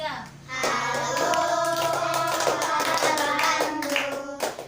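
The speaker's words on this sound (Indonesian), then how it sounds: "1, 2, 3 sambil tepuk tangan ya anak-anak" Children in a classroom singing together while clapping their hands in time, a chorus of young voices with steady rhythmic claps throughout, close and fairly loud.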